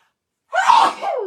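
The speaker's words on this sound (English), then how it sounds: "I think I have to sneeze." A single close, loud sneeze bursts out after a moment of silence, followed by a brief breathy trailing sound.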